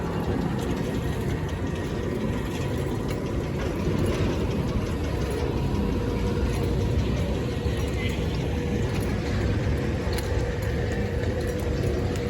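A Scrambler ride at an amusement park runs its cycle, a constant low mechanical rumble and whir under general park noise, steady and fairly loud throughout.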